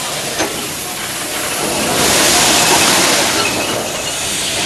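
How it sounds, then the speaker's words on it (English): Steam locomotive on an Indian railway, a loud continuous hiss and roar of escaping steam with train rumble, swelling midway and holding steady throughout. "The steam locomotive looks fascinating, it sounds fascinating"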